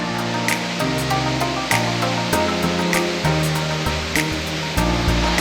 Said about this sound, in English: Another cool thing about this park is that you can actually go behind 4 of these waterfalls.